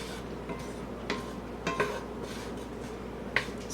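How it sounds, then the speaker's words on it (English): Onions and garlic are stirred in a hot pan coated with a little olive oil, with quiet scraping and a few light clinks of a utensil against the pan over a soft background hiss. "Stirring a little bit."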